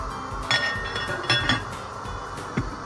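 Several sharp clinks and clatters of a lid settling onto a pot of ginataang bilo-bilo, a Filipino coconut milk dessert, set to boil, spaced irregularly over a quiet kitchen background.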